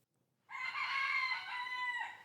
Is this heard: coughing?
no